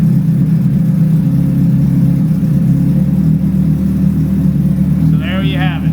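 A 2023 Suzuki Hayabusa motorcycle engine idles rich in a closed room, a loud, steady low throb held close throughout, with a voice briefly speaking near the end.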